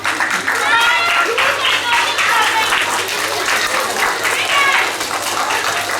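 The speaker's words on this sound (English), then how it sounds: "So now a big round of applause for class 2D" Children in a school assembly applaud class 2D on Mother's Day, giving a dense, lively round of clapping mixed with young voices and cheering.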